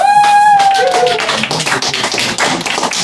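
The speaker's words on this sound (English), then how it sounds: "can I get a very warm applause for Socrates?" Comedy club audience in Rotterdam applauding a comedian, a dense burst of close clapping that swells after a brief whistle-like tone and then carries on steadily without any talk.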